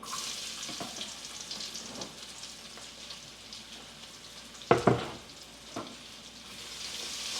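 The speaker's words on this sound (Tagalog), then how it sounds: "Nasa smoking point na uli yung mantika natin. Pwede nating magisa." Garlic sautés in smoking-hot oil for Filipino pork humba, a soft, steady sizzle with a few louder stirring clatters around the middle, close by and without speech.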